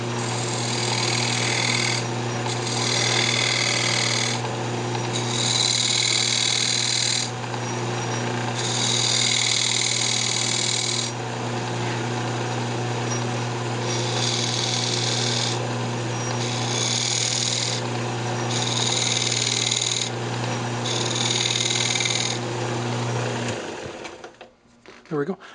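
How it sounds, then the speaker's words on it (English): A wood lathe spins a drop spindle while a tool cuts a couple of grooves into it, a steady motor hum under bursts of rasping cutting noise that start and stop repeatedly, then wind down at the end. "Just going to put just a couple of grooves in it."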